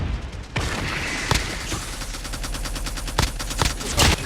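Rapid automatic gunfire from Call of Duty Mobile, using a DR-H rifle, with dense repeated bursts and a few louder single cracks across several seconds, loud and close throughout.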